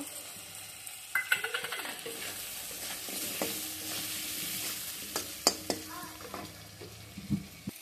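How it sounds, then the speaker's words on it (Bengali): Potatoes sautéing in a kadai with salt, turmeric and green chili, a soft frying hiss broken by a spatula's scraping stirs and light taps against the pan, close and quiet, with no voices. "লবণ হলুদ, কাঁচামরিচ দিয়ে দেব।"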